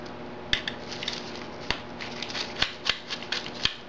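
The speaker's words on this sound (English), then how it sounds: "not your regular screwdriver, but like a micro screwdriver, and you're going to unscrew the six screws" A micro screwdriver turns tiny screws out of a 9600 GT video card, making a series of sharp little clicks and ticks at irregular intervals over faint scraping, close up.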